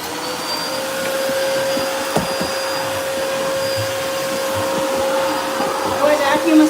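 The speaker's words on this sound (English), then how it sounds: "Let me just vacuum these stairs and then we're out." A vacuum cleaner drones steadily and loudly while cleaning a staircase, its motor whine holding constant for several seconds, with a few bumps and knocks as it moves along the steps.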